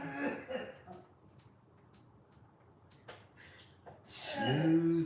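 A person coughing after water went down the wrong way: a couple of soft coughs and throat sounds, then a louder raspy cough and splutter near the end, with a quiet room between them.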